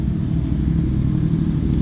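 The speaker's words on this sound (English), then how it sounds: "If it's not my stomach, it's a motorcycle." A motorcycle engine rumbles steadily outside, a low continuous drone that holds at an even, moderate level as it passes by, with no voices over it.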